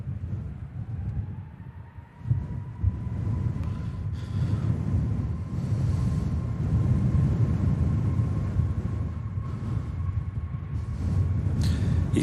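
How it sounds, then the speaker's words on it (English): An EasyJet Airbus A320neo on its takeoff roll at Manchester Airport in stormy weather: a steady, building engine roar with a rising whine, heard from a distance amid heavy wind buffeting the microphone. "EasyJet's on the roll. Another A320neo."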